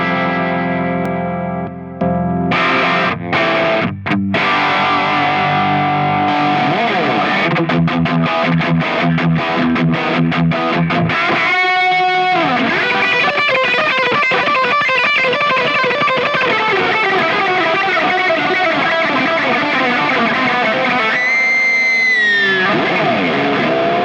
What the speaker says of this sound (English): Here's a Marshall sound